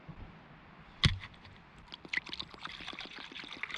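Water poured into a cup or container at a camp in the Scottish outdoors, a close, steady trickling and splashing after a sharp knock, running for a few seconds.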